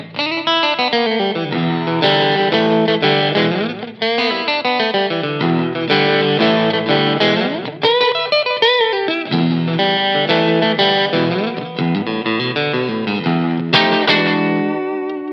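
An electric guitar, a Rob Williams Classic 57, plays a bluesy phrase on its middle pickup, steady and close for about fifteen seconds, with an edgy, slightly effected tone and clear picked notes and chords throughout. No voice.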